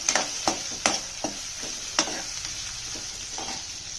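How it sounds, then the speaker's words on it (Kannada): Onions fry over medium heat for a ridge gourd dish, a soft steady sizzle broken by several sharp spatula scrapes and taps against the pan, close up with no talking. "ಮೀಡಿಯಮ್ ಉರಿ ಇಟ್ಕೊಂಡು ಫ್ರೈ ಮಾಡಿರಿ. ಈರುಳ್ಳಿ ಮೆತ್ತಗಾಗಬೇಕು, ಮೆತ್ತಗಾಗ್ತಾ ಇದೆ."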